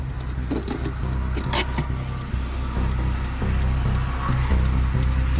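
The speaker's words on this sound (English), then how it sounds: "You roll your window down a little bit more for me so I can hear you?" A car's power window hums as it rolls down during a roadside police stop, heard over a steady idling engine, with a brief rattle and click and nearby traffic rumble.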